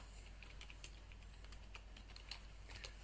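Soft, quick keystrokes on a computer keyboard tap out a short phrase into an Excel worksheet, faint and close against a low steady hum, with no talking.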